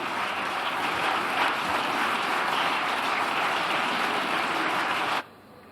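The Vox benches in the Spanish parliament applaud during a censure motion, a dense, continuous wash of clapping from many hands that cuts off abruptly near the end.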